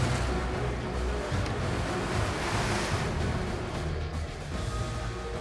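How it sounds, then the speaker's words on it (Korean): Rough sea waves surge around a boat at sea during traditional tuna fishing off Sulawesi, a loud, continuous broadband wash with wind buffeting the microphone and no voices. "점점 파도가 거세져 배로 롬폰에 접근하기가 쉽지 않습니다"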